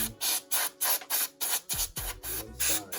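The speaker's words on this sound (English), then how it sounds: "Spray it out." Compressed air blasts into a PS4 CUH-1001A console during cleaning, coming in about nine short, loud hissing bursts with brief gaps between them and no talking.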